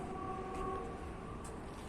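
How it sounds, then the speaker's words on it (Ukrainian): A train runs along railway tracks near a factory, giving a steady rumbling roll with faint squealing tones and a brief higher screech, heard at moderate distance without talk. "звідси зараз іде поїзд"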